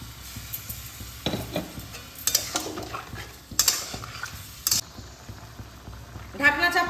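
Marinated chicken cooking in a pan on low flame with spice-bowl rinse water poured in, soft sizzling and bubbling under scattered clinks and scrapes of utensils against the pan, with a louder splash and hiss near the end.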